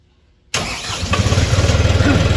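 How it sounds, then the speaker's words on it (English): An LV600 Green Climber remote-controlled machine's engine abruptly cranks and catches after a moment of quiet, then settles into a loud, rhythmically pulsing idle close by. "After about 5 seconds, the machine's gonna start."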